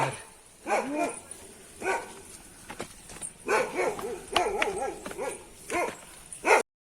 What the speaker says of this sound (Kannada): ನಮ್ಮನ್ನು ನೋಡಿಕೊಂಡು ಯಾವುದೋ ಒಂದು ನಾಯಿ ಹೋಗಲ್ತಾ ಉಂಟು ನೋಡಿ